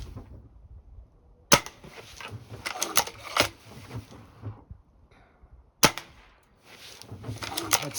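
A Crosman Magfire Extreme air rifle fires two sharp, close cracks several seconds apart during a timed shooting test, with rustling, handling clatter and metallic clicks of the action around and between the shots.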